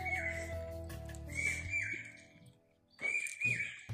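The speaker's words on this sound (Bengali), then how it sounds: "পাখির ডাকটা সবাই উপভোগ করতেছেন আশা করি" A bird calls on a foggy winter morning near a bridge, with repeated clear whistled notes over a low steady hum, a brief quiet gap, then more calls.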